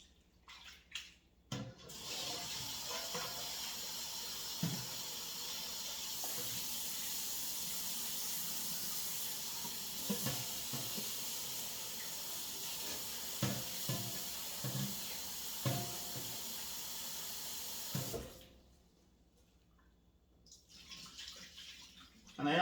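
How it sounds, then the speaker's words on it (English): Cut chicken breast is washed in a bowl under a running kitchen tap, a steady hissing water stream with scattered splashes and sloshes, fairly close, before the flow stops and faint sounds follow. "Wash my chicken nicely."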